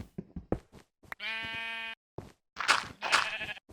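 A Minecraft sheep gives a loud, clear, harmonic bleat lasting under a second, set among short clicks and knocks with bursts of noisy game sound afterward.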